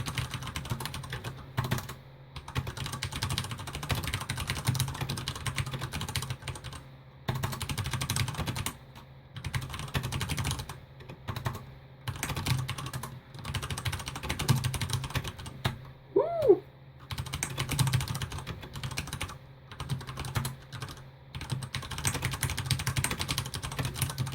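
A mechanical computer keyboard is typed fast and close up, in dense continuous bursts of clacking keystrokes broken by a few brief pauses, with no voices.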